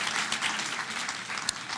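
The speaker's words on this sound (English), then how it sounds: "Yes, you can clap." A commencement ceremony crowd at the 2017 School of Journalism and Mass Communication claps steadily, a broad even hiss of many hands heard from a distance with no one speaking.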